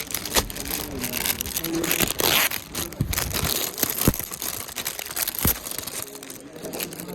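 Wrapping crinkles and tears as a package is unpacked beside a camper van, with dense, continuous rustling and crunching bursts throughout and a voice speaking faintly at times.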